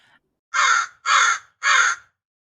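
Three loud, harsh crow caws ring out close by in an even, measured rhythm, each about half a second long, with nothing else heard around them.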